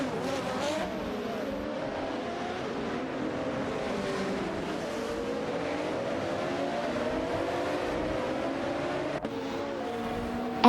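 Race cars, among them a Porsche 911 GT2 and a Bugatti EB110 LM, drone through a racing video game, their engines holding steady and rising in pitch as they gradually accelerate.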